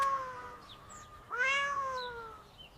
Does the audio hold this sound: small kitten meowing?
yes